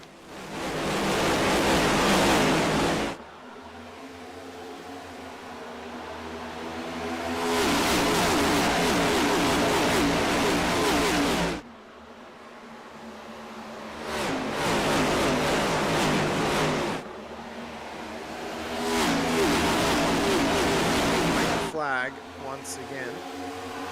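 Race car engines in a Pocono racing video game, turned up loud: broad roaring engine blasts in long surges that cut in and out, with quieter gaps and a final sputter of revving.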